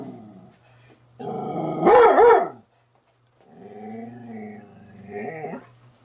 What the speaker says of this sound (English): The dog is barking and growling at the dog in the mirror.